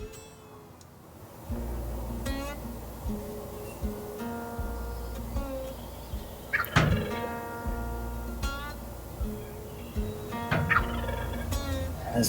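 A wild turkey gobbles repeatedly in the Wisconsin spring woods, several rattling gobbles ringing out at moderate distance amid quiet outdoor ambience, with no talking.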